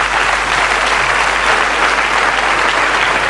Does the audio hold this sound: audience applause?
yes